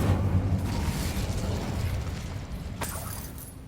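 Incendio fire spell in the Hogwarts Legacy video game erupting as a steady rumbling, crackling burst that slowly fades, with a sharper pop near the end and no talking.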